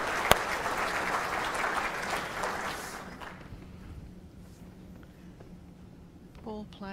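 Applause from the crowd at the 2020 World Indoor Bowls Championships rings out loudly for about three seconds, then fades into a quiet hall with a low hum and a few small knocks.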